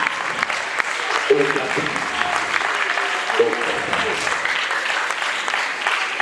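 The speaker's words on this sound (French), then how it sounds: "Sous vos applaudissements, s'il vous plaît." An audience at a school event breaks into steady applause, dense clapping that holds throughout at moderate loudness, while a voice over a loudspeaker repeatedly calls out a name.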